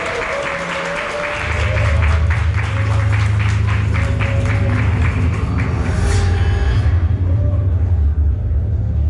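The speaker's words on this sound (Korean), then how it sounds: "뜨거운 박수로 맞이해주시기 바랍니다." Audience applause at the 2019 iNavi product launch, welcoming a product planning manager to the stage: dense, loud, sustained clapping from a large crowd with a low rumble underneath, swelling after a second and continuing steadily to the end.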